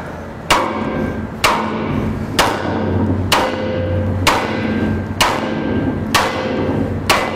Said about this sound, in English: something to give my firefighter a cue that they can keep hitting my tool until I say stop